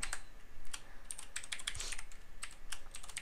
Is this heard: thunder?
no